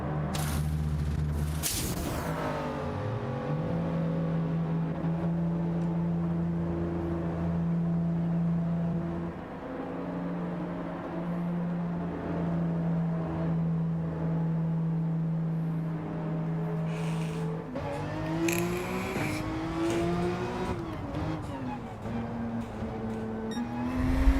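Gr.3 race car engines roar around Watkins Glen in a racing video game, a loud continuous drone whose pitch climbs and drops through gear shifts, with no voices.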